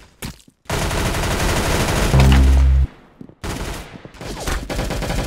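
Gunfire in the Roblox shooter Arsenal: dense, loud bursts of rapid shots in several sustained volleys, with a short pause, then more firing, close and alone without talk.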